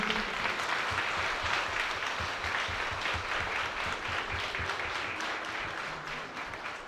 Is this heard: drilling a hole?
no